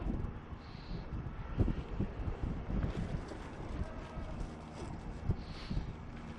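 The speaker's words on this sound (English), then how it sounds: "really windy." Strong gusting wind buffets the microphone while a poorly tuned hexacopter flies on a really windy day, producing a continuous rough roar with irregular bursts and a faint high whine of motors in the background.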